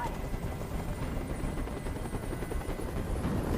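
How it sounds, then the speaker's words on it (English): A helicopter in the video game Detroit: Become Human hovers with a steady, dense rotor thrum that stays loud and constant throughout, with voices faintly underneath. "Tell that helicopter to get out of here."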